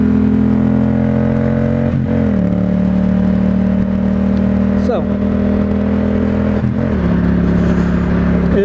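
A Yamaha FZ-07 motorcycle engine drones steadily while riding through a corner, with the pitch dipping briefly a few times as the throttle eases. Wind rushes loudly throughout and a rider talks over it.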